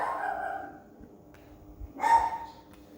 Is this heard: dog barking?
yes